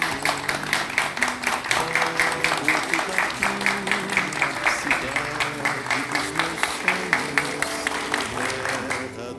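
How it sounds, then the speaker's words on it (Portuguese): A hall audience in Botucatu gives a steady, sustained round of applause for the Pedretti Neto school, many hands clapping close and even throughout, with a low murmur of voices underneath. "Vamos terminar então com uma salva de palmas para Pedretti Neto."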